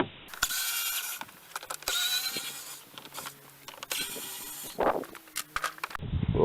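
T20 star screws being undone on a BMW 325d E90 air filter housing, a close series of small clicks, scrapes and ratcheting taps from the tool and plastic housing, intermittent and fairly quiet.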